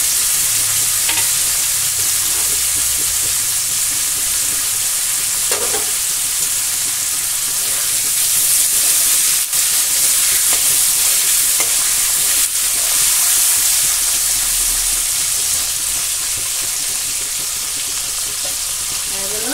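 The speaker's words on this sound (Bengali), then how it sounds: "অল্প ভাজবো, বেশি ভাজবো না।" Mixed vegetables frying lightly in a small amount of hot oil for a homestyle Bengali mix veg dish, a steady loud sizzle with occasional stirring scrapes throughout.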